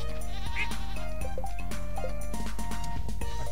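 A goat on a Stardew Valley farm gives a clear, wavering bleat over steady background game music.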